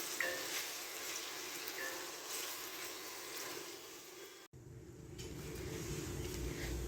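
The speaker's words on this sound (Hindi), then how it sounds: "यहाँ पे हम 4 से 5 मिनट के लिए इनकी भुनाई करेंगे।" Tomatoes and black cardamom are sautéed in a pan, giving a steady close sizzle and hiss of frying that continues throughout, with a brief break midway before the sizzle resumes.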